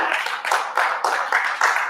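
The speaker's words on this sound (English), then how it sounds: "let's give him another hand for making up time for us" An audience at an agentic AI demo and pitch night applauds with a short run of brisk, rhythmic clapping, each burst sharp and close, with no voices over it.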